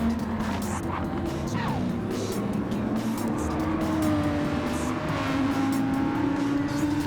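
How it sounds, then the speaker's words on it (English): An Audi race car engine roars on track, a continuous loud drone with pitch rising and shifting as it revs and accelerates, alongside other racing engine noise. "The Audi does sound pretty good."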